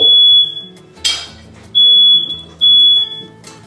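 A smoke alarm goes off during cooking, sounding in loud piercing beeps that repeat about every second and a half, with kitchen clatter underneath.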